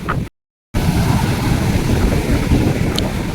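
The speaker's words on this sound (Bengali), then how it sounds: "বড় বড় ঢেউ আসছে" Loud roaring surf with waves crashing continuously, heavy wind buffeting the microphone, briefly cut by a moment of silence near the start.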